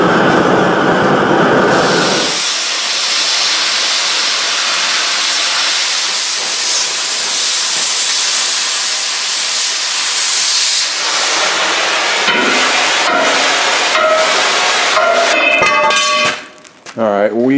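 A grinder or cutter runs loud and continuous with a harsh hiss as it cuts side bevels into a large steel sword blade. Toward the end the noise breaks into choppy, scraping bursts before stopping.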